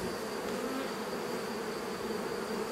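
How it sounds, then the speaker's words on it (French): A captured honeybee swarm hums steadily at a hive, a dense continuous buzz that stays even and close throughout with no voices. "Ça c'est un essaim que j'ai capturé au début mai."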